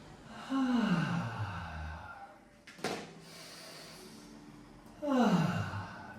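Deep audible breaths during a yoga flow in constructive rest, two long sighing exhales with a quick sharp inhale between them, close and fairly loud, with no talking.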